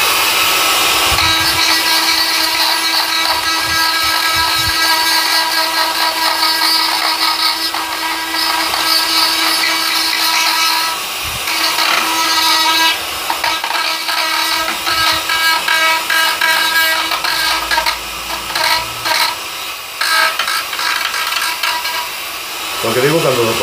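A power drill drives its bit into dead wild olive wood, running against the grain and the bit's rotation so the tool kicks and wanders; a loud, continuous whining grind with shifting pitch and brief dips fills the clip up close.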